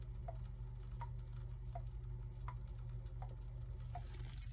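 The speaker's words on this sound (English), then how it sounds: "if you hear this dripping sound" Inside a marine vacuum flush toilet system that is slowly losing prime, water drips in a slow, regular rhythm, about one drop every three-quarters of a second, faint over a low steady hum, with no talking.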